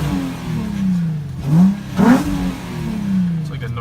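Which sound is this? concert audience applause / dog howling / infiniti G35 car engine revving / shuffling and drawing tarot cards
infiniti G35 car engine revving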